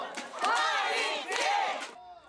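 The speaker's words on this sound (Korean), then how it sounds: "관중석에서는 경기 시작부터 뜨거운 응원이 이어집니다." Football supporters cheer and chant loudly in the stands at Mokpo International Football Centre during a Jeonnam versus Gyeongbuk match, a dense crowd roaring steadily with a brief dip before fading at the end.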